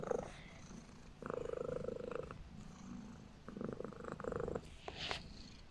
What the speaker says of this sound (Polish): Ale mruczę najgłośniej ze wszystkich kotów.